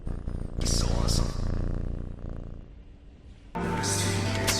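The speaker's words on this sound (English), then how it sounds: "do you guys want to hear my cat?" A pet cat purrs up close, a rough fluttering rumble that comes in bursts, with a short pause in the middle before it swells again, loud and near.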